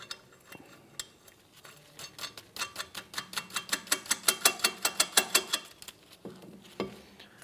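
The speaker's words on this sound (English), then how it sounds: "We'll secure it" A lug nut being spun by hand onto a wheel stud while replacing brake rotors on a 2011-2016 Hyundai Elantra, a rapid run of metallic ratcheting clicks building and then stopping, close and clear.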